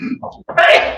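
A single sharp sneeze in a courtroom, close and loud, coming right after a brief murmur of speech.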